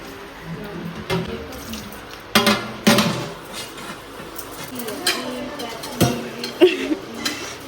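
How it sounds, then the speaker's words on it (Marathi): Dishes are scrubbed and rinsed at a home sink under running tap water, with clinks of pots and utensils now and then while people talk in the background. "भांडी घसण्याचा कार्यक्रम चालू आहे"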